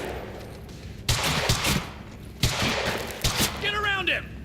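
Machine gun fire in the shooter Quantum Break comes as several short loud bursts separated by pauses, with game voices and effects mixed in near the end.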